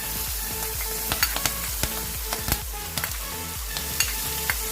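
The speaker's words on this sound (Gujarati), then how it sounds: "તો રાઈ જીરું હવે તતડી ગયું છે" Mustard and cumin seeds crackling in hot oil with asafoetida, peanuts, curry leaves and chillies while batata poha is cooked, giving close, irregular sharp pops over a steady sizzle, with a few louder cracks.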